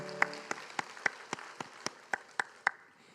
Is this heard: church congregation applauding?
yes